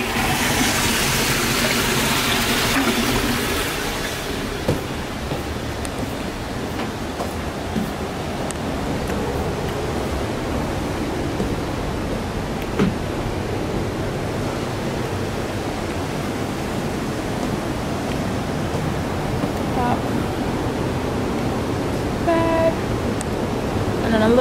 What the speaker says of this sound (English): This is the Nile River.